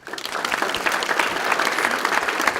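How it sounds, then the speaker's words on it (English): A neighborhood awards audience applauds an honorable mention Neighbor of the Year, a brief steady wash of many hands clapping together at close range with no talk over it. "thank you for the round of applause"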